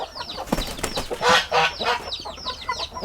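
Aseel roosters cluck and call in quick, scattered bursts at close range in a pen, with some louder squawks among softer clucks and faint background noise.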